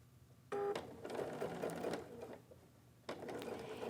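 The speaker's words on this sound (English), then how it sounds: "I'm going to stop sewing when I get to my stitching" A sewing machine runs in short bursts while stitching a tuck into quilt fabric, its fast mechanical whirr starting abruptly, pausing briefly, then starting again, fairly close and alone.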